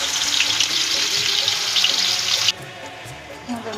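Fish coated in flour sizzling in hot oil in a wok, a dense steady frying hiss for about two and a half seconds, then quieter, with a faint clink near the end.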